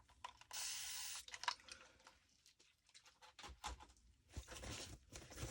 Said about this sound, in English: I'm just spraying it with alcohol